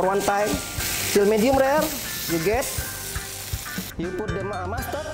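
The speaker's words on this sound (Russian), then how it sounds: "И обжариваем нашу корейку до средней степени готовности." Lamb loin sizzles steadily in a hot pan, a continuous crackling hiss running under a voice throughout.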